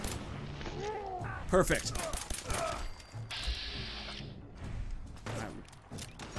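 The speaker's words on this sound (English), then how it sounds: "Shooting for the legs" Gunfire in Fallout 4's Far Harbor: a quick cluster of sharp, cracking shots with booming tails amid game effects and a steady hissing noise, while a player talks over the action.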